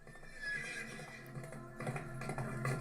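A horse neighs in a drama scene, a rising whinny under a soft musical bed, followed by faint hoof-like taps as the sound swells toward the end.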